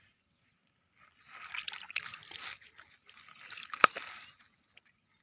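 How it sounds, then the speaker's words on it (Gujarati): Irrigation water runs in a farm field with a soft, trickling, splashing flow that swells for about three seconds at a modest distance, then fades to near silence. "જો કેટલી મસ્તીનું પાણી આવે છે"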